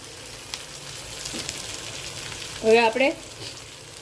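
Kathiyawadi stuffed green chillies fry in a pan, giving a soft, steady sizzle, with a voice speaking briefly over it.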